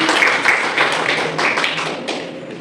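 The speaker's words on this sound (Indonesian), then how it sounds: "Tepuk tangan sekali lagi" Classroom students applaud a group after their mathematics presentation, a fairly loud, dense patter of clapping that swells and fades in uneven bursts, close by, with no speech over it.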